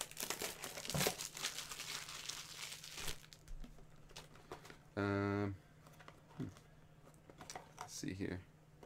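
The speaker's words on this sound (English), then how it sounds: "Let's tear that open." A mystery mini blind bag package being torn open by hand, with crinkly plastic rustles and a sharp rip partway through, heard close up and alone.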